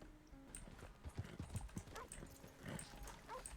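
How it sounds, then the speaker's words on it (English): Hooves of a horse in the RedM roleplay game clip-clop in a quiet, uneven run of steps, faint and close-ish, with occasional soft background sounds. "Great, that's Gun's horse."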